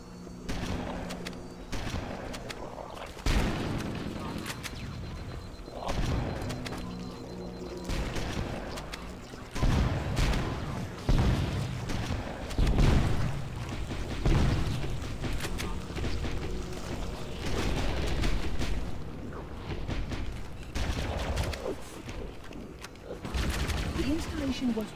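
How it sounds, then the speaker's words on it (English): Explosions and gunfire from the Halo Infinite video game, in a chaotic legendary-difficulty mission set in The Library, pop and thud in a constant fray under a player's talking. "there's just so many bombs happening. So much explosions and so much going on."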